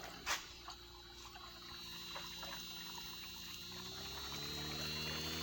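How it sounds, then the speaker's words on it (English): A water pump drives a strong 20mm stream of water, giving a steady, fairly loud rushing pour with a couple of brief knocks near the start and a low mechanical hum beneath. "That's a solid, 20mm stream of water flowing very well."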